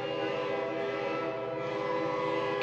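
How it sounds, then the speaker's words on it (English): Train horns mounted on a baseball association's float in an outdoor Christmas parade blare a sustained, multi-toned chord that holds steadily and swells slightly at the end. "Sounds like they've got some train horns for the New Georgia Baseball Association float."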